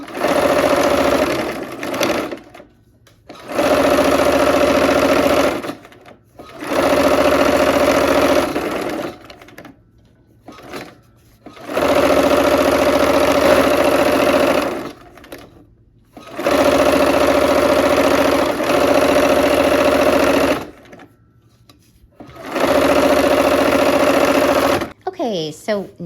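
A sewing machine stitching quilt pieces together runs in five loud, steady bursts of humming, rapid stitching, separated by short quiet pauses while the fabric is adjusted.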